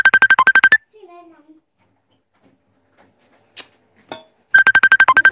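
A mobile phone rings with an incoming call: a rapid run of bright, repeating electronic beeps opens and closes the moment, separated by a quiet gap with a few faint murmurs and small bumps.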